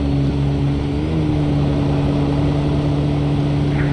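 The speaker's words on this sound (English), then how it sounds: "Let's listen to those engines." Airbus A321neo jet engines spooling up in the Toliss flight simulator, a steady continuous engine drone with sustained low tonal hum, loud and alone with no talking.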